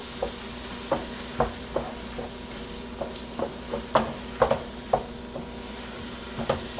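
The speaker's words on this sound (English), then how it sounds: "I'm just going to stir this in to make our roux." Flour stirred into hot fat for a roux, giving a low sizzle with a steady series of soft scraping spoon strokes against the pan at a quick, fairly regular pace.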